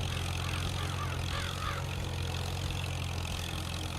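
Steady, loud low-pitched rumble of an old Allis tractor engine idling in Farming Simulator 22, a continuous drone with no variation and no talking.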